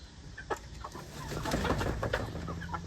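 Young hens of Marans and Easter Egger breeds, hatched in an incubator a few months earlier, cluck softly and intermittently close by in a farmyard, with short scattered calls over low background hum.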